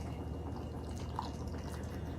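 Simmered syrup is poured over peppers in a glass jar, giving a steady low liquid stream with faint drips, continuous and fairly quiet, with no talking.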